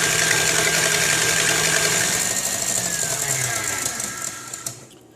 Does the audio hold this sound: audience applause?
no